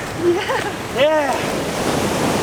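Ocean surf breaks on a beach during surf fishing, a constant loud wash of wave and wind noise with brief voices calling out over it.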